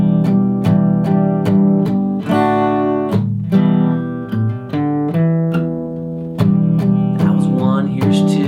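An acoustic guitar plays a bridge riff, a steady run of clear plucked notes and ringing chords, loud and close, with no voice over it.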